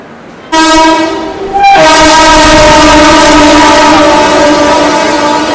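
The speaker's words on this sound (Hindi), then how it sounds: "हावड़ा बाड़मेर एक्सप्रेस, बाड़मेर हावड़ा एक्सप्रेस यहाँ पे हम लोग को ओवरटेक करके निकल रही है टुंडला में।" The Howrah–Barmer Express overtaking at Tundla, sounding a loud, sustained multi-tone horn that starts abruptly, pauses for a split second, then holds steady over the rumble of passing rail cars.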